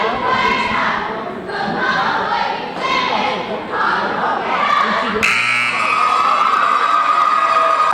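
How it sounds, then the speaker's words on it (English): A boys' high school basketball crowd in a gym roars and cheers near the end of a close game, with shouts and a loud buzzer blast breaking in; a commentator talks over it. "Chazy crowd's getting into it. They're having a great time."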